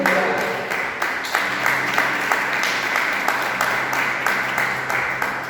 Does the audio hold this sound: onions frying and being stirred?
no